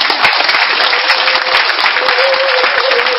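A church congregation applauding, dense and loud sustained clapping filling the room without a break.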